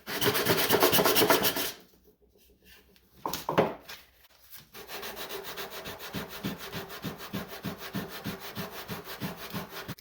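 Sanding the edges of a wooden box made to hold a knife: steady, rhythmic rasping strokes close by, a loud burst at the start, a brief pause with a few scrapes, then continuous back-and-forth rubbing.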